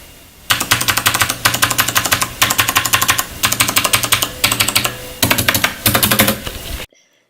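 Rapid clattering keystrokes on a Corsair Strafe mechanical keyboard with Cherry MX switches, typed in several dense bursts separated by brief pauses, loud and close with no voices.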